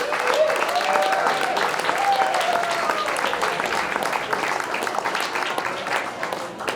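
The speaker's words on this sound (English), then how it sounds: "Can I please get a big round of applause for Mr. Jeff Bartley?" A big round of audience applause at a bluegrass night in a bar, dense continuous clapping from a crowd with a few raised voices, sustained at an even level before easing slightly at the end.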